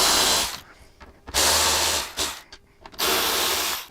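A ratchet backs out gauge screws on the inner fairing of a 2015-or-newer Harley Road Glide, heard as three loud, close bursts of rapid clicking separated by short pauses.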